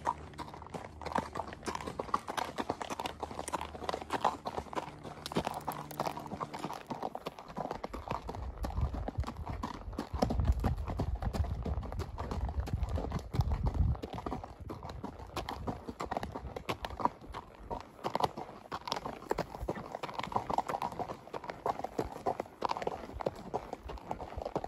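Horse hooves clip-clopping steadily along a trail during a ride, a continuous close rhythm of hoof falls with brief low rumbles partway through.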